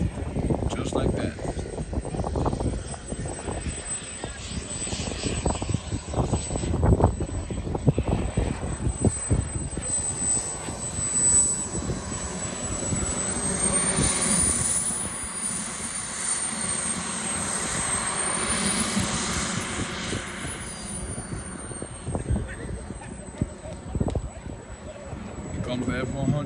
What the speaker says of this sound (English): Here comes the F-100 Super Sabre.